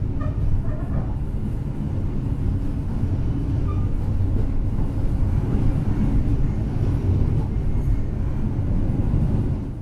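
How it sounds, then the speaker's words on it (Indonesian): At night the Jaka Tingkir passenger train pulls away from Klaten station with a steady, heavy low rumble of wheels and engine that holds at an even, fairly loud level for the whole stretch, with no talking. "Pada pukul 23:27 kereta api Jakatingkir diberangkatkan kembali dari stasiun Klaten."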